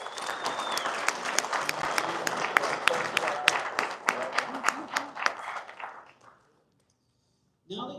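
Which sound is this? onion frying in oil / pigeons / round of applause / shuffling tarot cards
round of applause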